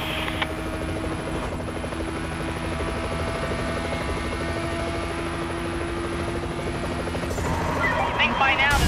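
A police helicopter in the video game The Crew drones with a steady rotor buzz throughout a car pursuit, loud and continuous with a brief burst of radio-like noise toward the end.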